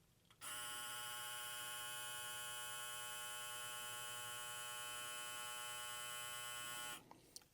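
A BRDClip Smart X 8198 hair clipper with a slightly rattly motor buzzes loudly and continuously for several seconds up close, switching on and off abruptly.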